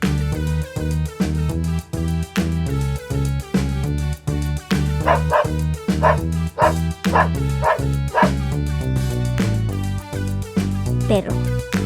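A dog barks again and again in quick, regular yips and woofs, close and clear over continuous background music.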